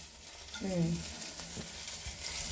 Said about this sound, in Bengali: এবারে আমি দিয়ে দিচ্ছি কালো জিরে